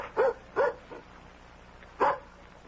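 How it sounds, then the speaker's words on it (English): A dog barks in a radio mystery drama: two quick barks close together, a softer yelp, then one more bark after a pause, all close and clear over a quiet background. "It's just the dog."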